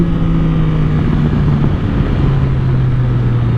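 Engine of a 2022 Yamaha MT-09 motorcycle with a tuned ECU, held in a loud, steady roar during a wheelie, its pitch dipping slightly midway, close and continuous with wind rush and no talking.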